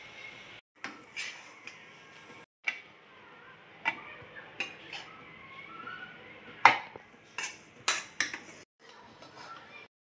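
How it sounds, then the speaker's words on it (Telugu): Broad bean fry with coconut and peanuts being spooned into a serving bowl, giving scattered light clinks and taps of utensil on dish in a quiet kitchen, with no talking. "ఇప్పుడు దాన్ని మనం సర్వింగ్ బౌల్లోకి సర్వ్ చేసేసుకుందాం."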